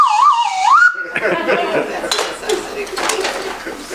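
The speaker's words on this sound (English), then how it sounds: "Got your wooden slide whistle." Wooden slide whistle played up close: a loud, bright tone sliding up and down in pitch for about a second, followed by clattering handling sounds as it is set down.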